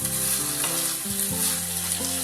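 Spinach and green peas being stirred in a hot wok make a constant, near sizzle with faint scraping, set against shifting background music tones and no talk.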